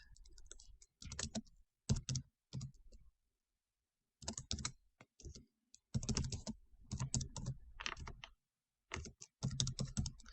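Fast clicking of computer keys comes in several short bursts separated by brief pauses, close and fairly quiet.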